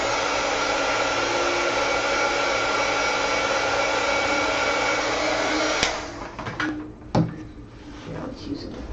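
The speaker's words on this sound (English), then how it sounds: "I'm going to hit it with the heat gun to make sure that that permanent ink from the" A heat gun blows continuously to dry stamp pad ink over acrylic paint, a loud steady rushing whir that cuts off partway through, leaving faint handling knocks and clatter afterward.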